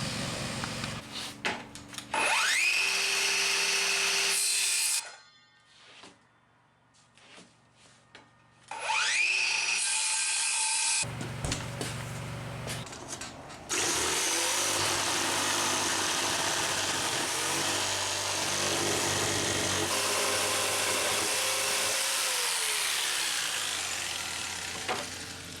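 Power saw cutting plywood pieces for a DIY skate quarter pipe ramp, a loud whining motor with cutting passes, stopping briefly and restarting, then running steadily for a long stretch, no talking.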